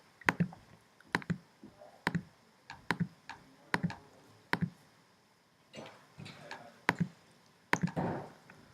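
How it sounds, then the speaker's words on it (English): Sharp mouse clicks repeat on a program's run button at a steady, roughly one-per-second rhythm, some in quick pairs. The clicks are close and quiet, with no talking. "So keep clicking the run button"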